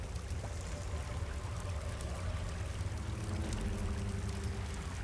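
Waterfall in the Left 4 Dead 2 game, a steady, loud rushing roar of falling water that fills the whole stretch without letting up, with no voices over it.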